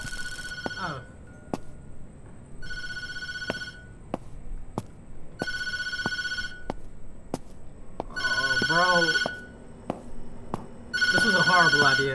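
A telephone in a video game rings over and over in regular bursts of bright, trilling bells, loud and close, with someone talking in between the rings.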